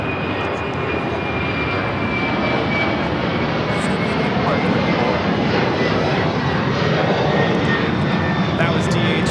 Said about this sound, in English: That was DHL, operated by ABX Air, Flight 410, taking off to Cincinnati on the 767-300 converted freighter